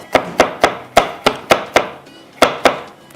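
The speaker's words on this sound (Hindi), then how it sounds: "लहसुन थोड़ा सा और बारीक कर लेते हैं" Garlic chopped finely with a knife on a board, about ten crisp close knocks in a fairly steady rhythm, with a short gap before the last few strokes and no talking.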